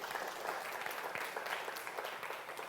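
A church congregation applauds together during a Spanish-language sermon, a steady dense wash of clapping hands that holds throughout with no break.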